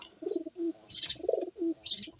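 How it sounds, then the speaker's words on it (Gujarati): Pigeons coo in soft, rounded repeated calls close by, with a few higher chirps mixed in. "આ ભાઈ પાસે કબૂતર છે, 6-7 કબૂતર છે"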